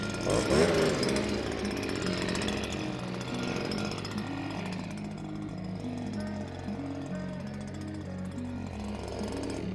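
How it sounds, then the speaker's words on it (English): Leaf blower running near a young horse outdoors, a loud steady engine drone with a shifting pitch that stays constant throughout, with people talking over it. "that's her first day with a leaf blower"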